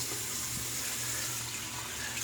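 A running bathroom tap pours a steady stream of water into a sink, a constant faint wash of sound with no talking.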